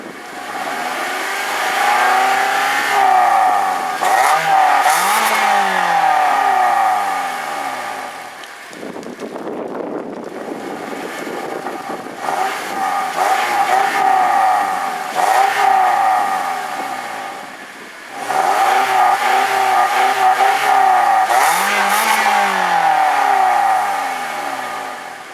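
A 2010 Toyota Corolla S 1.8 liter inline four-cylinder engine idles and revs repeatedly, rising and falling in pitch with a brief dip in the middle, steady and close with no talking.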